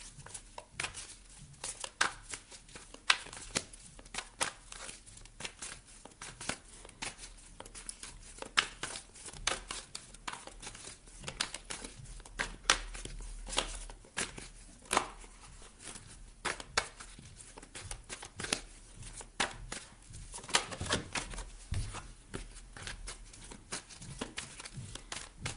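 Tarot cards are shuffled and handled continuously at close range, giving a dense stream of crisp riffling, flicking and papery crinkling with no voice over it.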